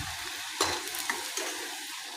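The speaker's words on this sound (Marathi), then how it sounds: "आपण असे सर्व बॉल्स तयार करून तळून घेणार आहोत" Soybean fritter balls deep frying in oil, a constant close hiss and bubble with a few brief clinks from stirring, heard alone.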